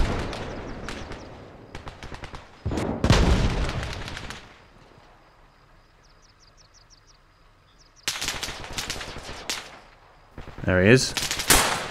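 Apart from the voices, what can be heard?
RPG and gunfire in a video game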